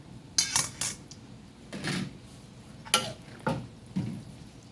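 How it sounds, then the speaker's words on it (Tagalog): A utensil stirs sotanghon guisado in a pan, giving several separate metallic scrapes and clinks in an uneven rhythm, close and fairly quiet with nothing else over them. "Haluin natin."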